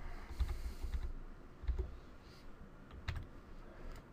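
Quiet typing on a computer keyboard while entering a web address into the Windows 8 hosts file, with scattered soft key clicks in irregular bursts.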